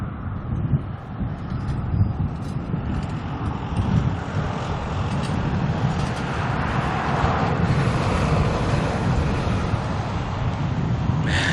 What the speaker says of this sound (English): We've got another 787 lining up on the runway.